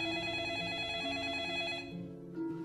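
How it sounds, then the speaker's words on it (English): A telephone bell rings in a trailer for the 2002 horror film The Ring, a loud sustained trilling ring that cuts off near the end, followed by a low swell. "as soon as it's over, your phone rings."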